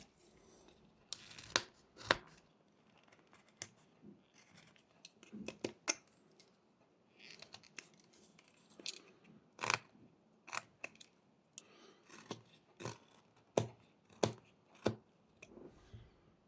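Sharp knife stop cuts into wood while whittling a small wooden Christmas elf, a series of crisp, close clicks and snaps at irregular intervals with quiet scraping between.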